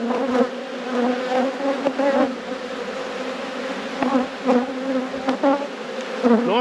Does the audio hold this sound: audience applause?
no